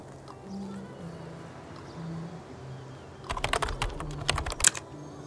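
Computer keyboard typing a cheat code on a PC, a quick cluster of close, crisp key clicks after a few seconds of quiet hum.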